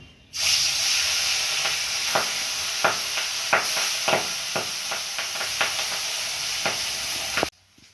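Katla fish fries in hot oil, a loud, steady sizzle that starts abruptly and cuts off at the end, broken by repeated sharp scraping clicks from a utensil moving the fish.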